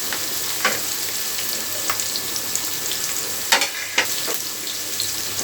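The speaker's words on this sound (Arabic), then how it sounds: "احطه بقى في الزيت عشان احط الكميه كلها عشان تتحمر حلو" Starch-coated pieces for Egyptian koshari fry in hot oil with a steady, close sizzle, and a few sharper crackles and spits burst out as more pieces go in.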